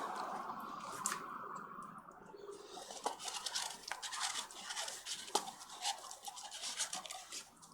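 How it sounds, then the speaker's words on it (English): Leftover epoxy resin is scraped from a container with a tool: faint, close scratching and scraping strokes in irregular bursts, with light tapping and no talk. "See if I can scrape. Got some here. Scrape the last little bit out."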